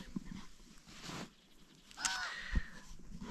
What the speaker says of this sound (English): This bird is so loud.